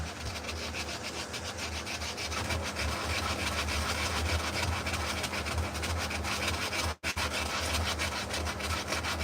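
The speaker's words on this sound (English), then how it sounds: "Let's take a little sandpaper to it." Sandpaper rubbing a hand-carved wooden spoon in a workshop, a continuous rapid back-and-forth rasping with one brief pause near the end, close and fairly loud, with no voices.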